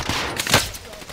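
Rapid gunfire in a battle royale video game, a burst of shots over a dense, noisy game mix lasting about a second.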